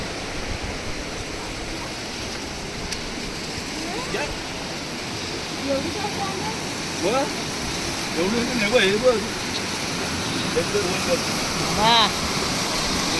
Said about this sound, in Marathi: पाण्याचा आवाज बघा,